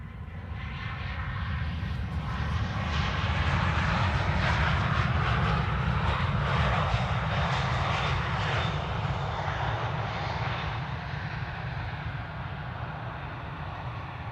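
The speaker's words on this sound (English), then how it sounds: "CRJ, the second CRJ of the show. SAS arriving from Copenhagen." An SAS CRJ regional jet airliner arriving at Amsterdam Schiphol, a loud steady engine roar that swells slightly and holds across the whole stretch, with no talk.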